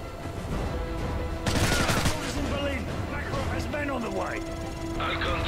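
Gunfire from the video game Call of Duty: Modern Warfare 3, a burst of shots near the middle over steady game noise and soundtrack, with voices talking throughout.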